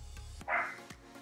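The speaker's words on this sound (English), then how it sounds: "Gigi's barking at God knows what" A single dog bark lands sharply at close range in a quiet indoor room, with faint background hum before and after and no talking.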